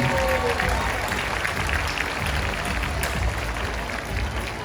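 A large crowd at a SeaWorld San Diego dolphin show applauds steadily for the animal rescuers, a dense, even wash of clapping over a low musical bed, with a voice speaking over it.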